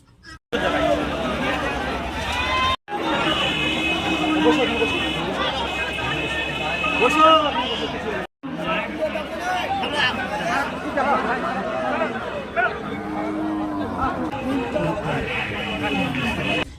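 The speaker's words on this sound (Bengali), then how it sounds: "যেখানে আপনি পেয়ে যাবেন ছাগলের হাট দেখতে পাচ্ছেন ছাগলের হাটটা" Village livestock and goat market crowd, a continuous busy hubbub of many people talking and calling nearby, with a few sharp breaks in the sound.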